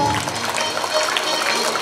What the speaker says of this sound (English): Everyone, please give a big round of applause to her.